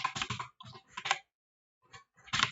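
Keys clack on a computer keyboard in short bursts of typing with gaps of silence, close and fairly quiet, while HTML code is written.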